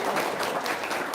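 A studio audience at an Indonesian testimonial talk show breaks into brief, dense applause, a steady wash of many hands clapping close by for just over a second.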